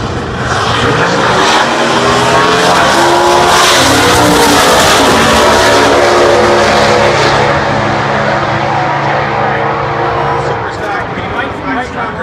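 Drag race cars, including a 2010 Chevrolet Cobalt, roar loudly toward the finish line at the Chevrolet Performance U.S. Nationals. A sustained engine blast easing off near the end runs under an announcer's steady commentary.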